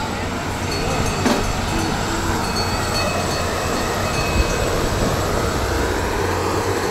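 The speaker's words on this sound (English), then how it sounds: "Love that big old train." A big old train rumbles steadily at the Iron Horse Festival, a loud, constant low drone with generator-like noise mixed in, close and unbroken throughout.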